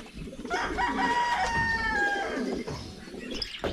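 Jersey Giant chickens make clucking and drawn-out vocal calls up close, a dense, sustained stretch of fowl sounds with some rustling.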